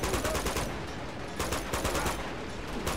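Gunfire in the video game Uncharted 2, with dense rapid bursts of shots and crackling impacts in a continuous fusillade, loud and busy throughout.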